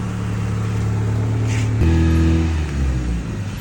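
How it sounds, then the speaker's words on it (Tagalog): A Honda Civic engine idles high even when warm, a loud steady drone with strong harmonic hum that shifts pitch partway through, close to the car with no voices. "maririnig niya dito ang taas ng RPM niya kahit mainit na yung sasakyan"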